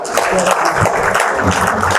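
Audience applause for incubatees at an incubator forum inauguration, steady dense clapping filling the whole stretch at even loudness, with no talk over it.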